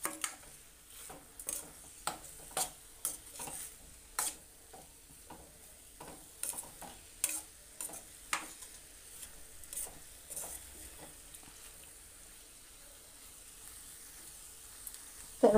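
A spoon stirs salted methi bhaji (fenugreek greens) in a pan after the lid comes off, a quiet run of irregular clicks and soft scrapes over a faint low sizzle that thins out toward the end.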